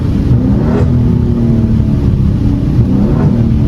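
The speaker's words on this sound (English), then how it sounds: "Give y'all a downshift." A car engine revs hard during a downshift in traffic, a loud, continuous mid-pitched roar with a couple of quick rises in pitch.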